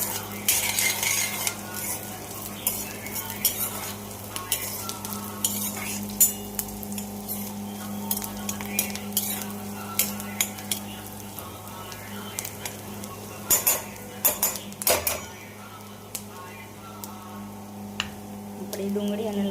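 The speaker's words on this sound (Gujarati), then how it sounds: "આપણી ડુંગળી અને લસણ એ સોતે થઈ રહ્યું છે." Onion and garlic sauté in a pan for palak paneer, with a soft steady sizzle under repeated spatula scrapes and clinks against the metal, and a voice speaking over it.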